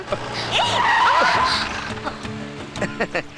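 A car brakes hard with tires skidding, giving a loud, wavering screech over engine noise and scattered knocks and thuds, all close and busy.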